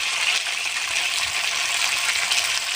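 Fried potato and papaya tipped into a pan of hot spice mix in a village Bengali kitchen, giving a loud, steady broadband sizzle and hiss that holds evenly throughout with no talk.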